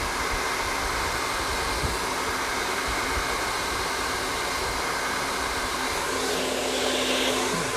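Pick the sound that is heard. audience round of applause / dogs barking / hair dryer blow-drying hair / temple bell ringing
hair dryer blow-drying hair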